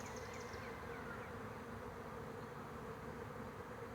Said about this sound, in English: There are so many bees, you can hear them